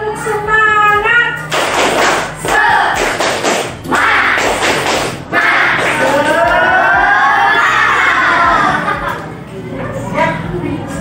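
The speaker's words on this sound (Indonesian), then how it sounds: "Coba supaya lebih semangat, kita tepuk semangat dulu." Classroom of students doing the rhythmic tepuk semangat clapping chant, loud bursts of patterned claps and table thumps mixed with group voices chanting in unison close by.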